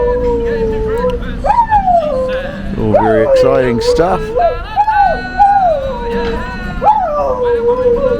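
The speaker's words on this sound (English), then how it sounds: "he's got a dog that howls while he plays the guitar" A dog howls and yips in long, wavering tones over strummed guitar in Queenstown, New Zealand, with a voice talking briefly partway through.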